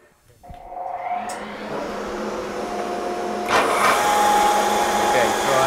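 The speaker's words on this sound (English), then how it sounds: "I'm going to use the belt sander" A belt sander whirs up and runs continuously while a wooden toy part is smoothed, its steady abrasive hiss growing louder as the wood is pressed against the belt.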